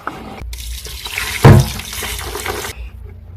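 Water being poured into a container of synthetic braiding hair locs soaking in conditioner, a close, loud splashing gush that peaks briefly and then settles into a steady trickle before stopping.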